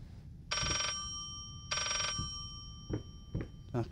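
An old telephone bell rings twice in the horror video game Layers of Fear, two evenly spaced metallic trills close by, followed by soft footsteps and creaks in a quiet interior.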